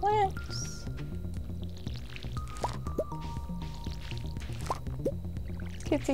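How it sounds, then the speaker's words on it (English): Watering crops in the Stardew Valley farming game: soft, splashy watering-can drips and squishes recur through the clip over steady in-game music. "We will water the plants."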